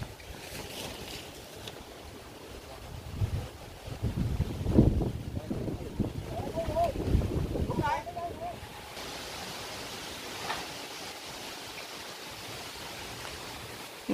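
Wind gusting during a rainstorm while a large leaning tree is pruned in an orchard, a steady rushing noise with stronger bursts in the middle, under intermittent talk.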